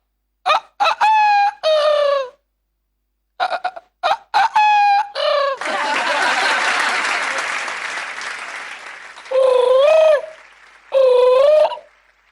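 A man on a comedy stage imitates a rooster crowing: two sets of rapid voiced crows, then a long swell of audience applause, followed by two more loud crows standing alone.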